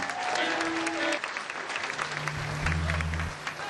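An audience claps to welcome the backing band at a live show: a dense, continuous wash of applause from a full room, steady throughout, with faint tonal sounds beneath it.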